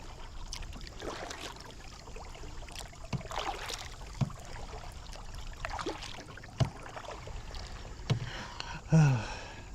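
A kayak glides across calm water, with soft rhythmic paddle strokes, gentle splashes and light dripping close by, faint overall with no voices.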